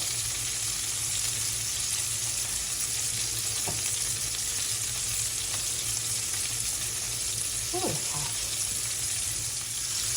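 Meatballs of ground turkey and sausage frying in grease, a loud continuous sizzle and crackle throughout, with faint clinks in the background.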